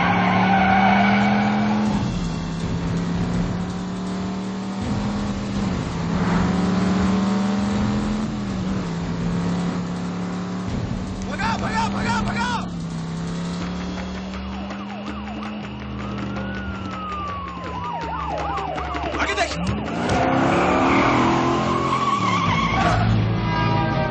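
Cars race fast in a police chase with Dwayne Johnson, tires squealing and skidding in long loud sweeps while a police siren wails and engines roar, the squeals rising and falling across the whole stretch.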